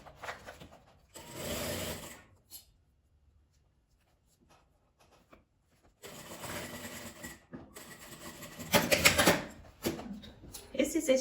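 A sewing machine stitches clear plastic crystal vinyl for a cosmetic pouch in short close bursts of rapid mechanical clatter separated by a long quiet pause, with faint handling noises between runs.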